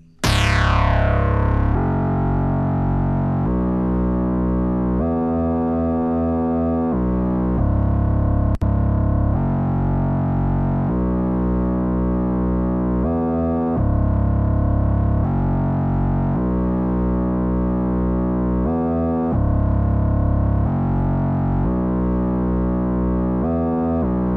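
A thick, distorted synth tone from the Native Instruments Monark virtual analog synth, preset Intruder, plays a monophonic line of sustained notes with effects shimmer, changing pitch every second or so, loud and steady with no talking.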